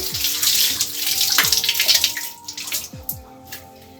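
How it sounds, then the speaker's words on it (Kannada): Tap water runs steadily over fresh coriander leaves being washed, a loud, close rush that eases after a few seconds into lighter splashing and a few drips. No one speaks. "ಕೊತ್ತಂಬರಿನ ನೀಟಾಗಿ ತೊಳ್ಕೊಂಡು"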